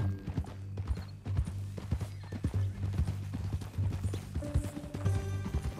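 Horse hooves clip-clop in Red Dead Redemption 2, an uneven run of close hoof strikes over a low steady drone with brief tonal game sounds.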